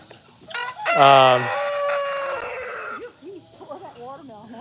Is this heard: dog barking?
no